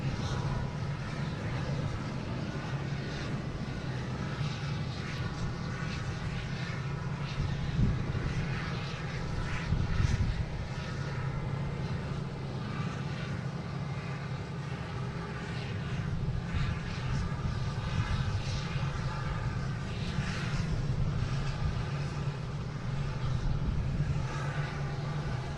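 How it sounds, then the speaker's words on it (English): A Delta Embraer E-175 jet takes off from Boston Logan bound for Philadelphia, a sustained loud roar of engines that holds steady for the whole stretch, with a broad rushing hiss above the low rumble. "we got another Philly special taking off. Delta, flight 5714."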